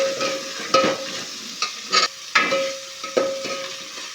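Onion and garlic paste fry in oil in a pan, crackling and sizzling under repeated metal spoon scrapes and clanks against the pan as it is stirred, near and fairly loud.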